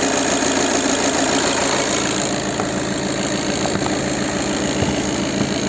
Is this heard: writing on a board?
no